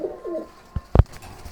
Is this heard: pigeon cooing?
yes